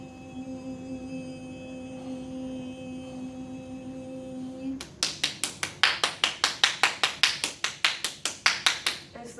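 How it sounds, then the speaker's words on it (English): Steady rhythmic hand clapping, loud and close, about sixteen sharp claps in a regular beat after a quiet stretch with a low hum. "As the clapping takes place,"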